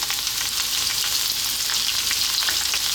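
Onion and salt fry in a hot pan for a vegan spinach potato curry, giving a loud, steady, crackling sizzle up close with no break.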